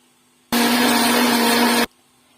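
An electric mixer beats cake batter while oil is poured in, a loud, steady, close whirring drone that starts abruptly and runs alone for just over a second before cutting off.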